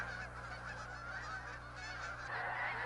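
Many migrating geese honk together at Blackwater National Wildlife Refuge in a dense, continuous chorus, a steady wash of overlapping calls from a large flock with no talking.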